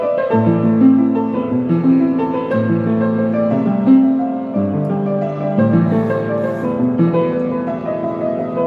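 A badly out-of-tune piano plays a slow, sustained passage of chords and melody, near and steady in loudness, with no talking over it.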